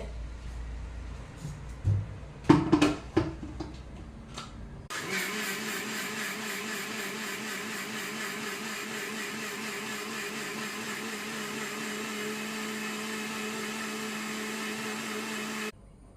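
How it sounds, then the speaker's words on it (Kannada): An electric mixer grinder whirs loudly and steadily, grinding soaked rice with salt and water into a smooth batter, after a few clattering knocks and a short pause before the motor starts and then cuts off. "ಈಗ ಇದನ್ನು ನೈಸಾಗಿ ನಾನು ಗ್ರೈಂಡ್ ಮಾಡ್ತೇನೆ"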